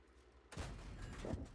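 A sudden heavy blast of tank gunfire in World of Tanks booms out of quiet low rumble, followed by a lingering roar with a second thud shortly after, fairly distant.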